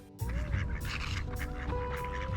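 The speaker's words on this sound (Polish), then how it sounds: "Kaczki odpływają od brzegu" Duck quacks from ducks on a lake shore in snowy winter sound close by over a steady outdoor rumble, several calls in a row without any voices.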